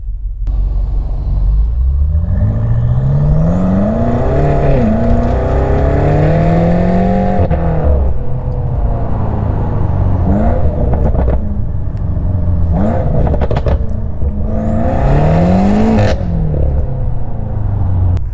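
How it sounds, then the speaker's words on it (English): A 2024 BMW M8 Gran Coupe heard from outside, accelerating hard through rising gear sweeps with shifts, loud and close, repeated pulls over about eighteen seconds, no speech. "I got to overlay a clip of how it sounds from the outside,"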